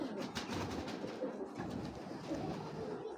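A pigeon of an 008 bloodline coos in low, continuous rolling murmurs, close and steady throughout, with no speech.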